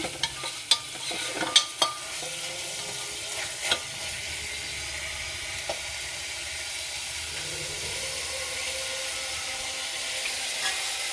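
Chicken fries on high flame in a pressure cooker while being stirred. Steady sizzling hiss runs throughout, with a few sharp clinks and scrapes of the utensil early on, close and without talk.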